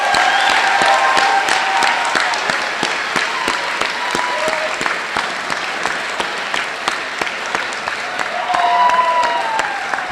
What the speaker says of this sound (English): give a round of applause to the class of 2016